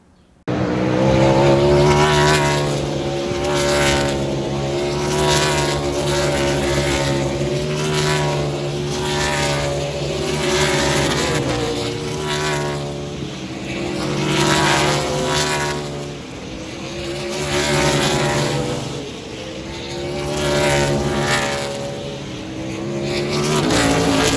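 Race cars at Road America climb the hill out of turn 5, engines roaring loudly and continuously with rising and falling pitch as several pass in succession, heard from a grassy spectator area.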